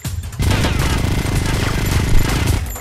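Rapid, loud gunfire from a gun in a GTA game crackles in a dense, continuous burst of shots lasting a couple of seconds, close and forceful, with no talking over it.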